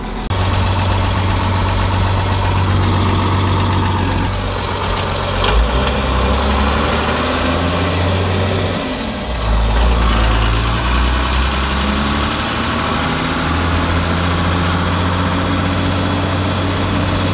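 A vehicle engine runs steadily as it is driven around town with an alternator charging a lithium battery, a low continuous hum with shifting tones as speed changes, loud and close throughout, no talking.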